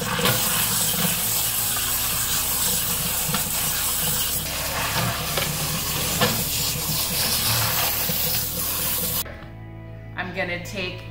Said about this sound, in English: Now I'm gonna rinse the corn.